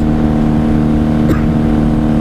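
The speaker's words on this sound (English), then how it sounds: "Do you like the sound of the stock pipe snow baffles?" A 1994 Honda Magna 750 motorcycle on stock pipes with baffles, a loud, steady close engine drone while riding, with a brief sharp click partway through.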